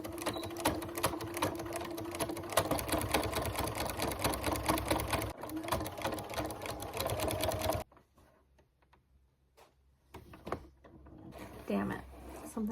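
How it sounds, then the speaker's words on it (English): A sewing machine stitches a pocket onto a harvest apron, running steadily with a rapid mechanical chatter for several seconds, then stopping, followed by sparse handling clicks and quiet movement. "Okay, one more pocket to sew on."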